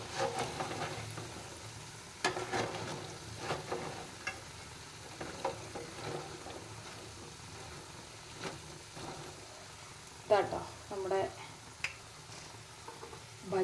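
Bajji fritters bubbling and frying in hot oil, with soft sizzling and intermittent scraping and stirring clatters as they are scooped out with a ladle, no talking.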